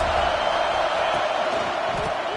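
A stadium crowd at a football game roars for the defense on a big third down in the red zone, a dense steady wall of cheering close and loud throughout.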